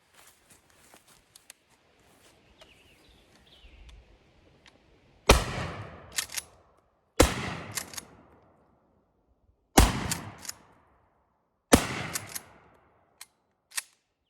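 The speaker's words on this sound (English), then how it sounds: "So we're going to see how a modern shotgun does with a black powder shell." Four loud, sharp blasts from a Maverick 88 12 gauge pump shotgun firing light black powder shells, spaced about two seconds apart, each ringing out briefly and followed by a faint click at the end.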